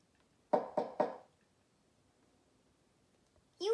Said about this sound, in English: You hear a knock knock.